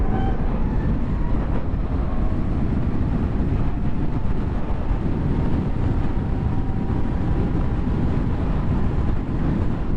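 2023 Zero DS electric motorcycle under full throttle in gusty wind: a continuous loud roar of wind buffeting and road rush with a faint high motor whine, steady throughout.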